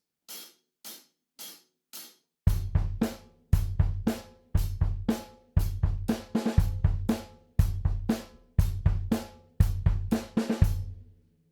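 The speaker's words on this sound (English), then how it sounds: "If we play quarter notes with nice tight closed hi-hats," Four lone ticks, then a steady drum beat of kick and snare under crisp, tight closed hi-hat hits on every quarter note.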